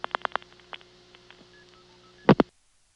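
On a Siemens telephone switch line in Ocala, Florida, in 1982, a quick burst of dialing pulses is followed by faint multifrequency tones and then two loud closing tone bursts. The sound is clean and close, with no voices.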